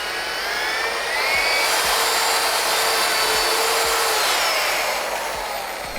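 An electric paddle mixer blends mortar powder with water in a building-products lab, a steady, loud whirring churn running continuously throughout with a broadband rasp and no talking.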